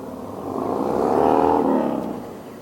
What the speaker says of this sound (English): Noisy motorcyclists, I tell ya.